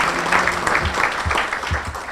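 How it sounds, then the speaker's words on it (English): Audience applause at a Manatee Chamber of Commerce pancake breakfast, a moderate wash of hand claps from a room of people, steady and fairly close. "Y'all deserve a round of applause yourselves for all the great work that you do."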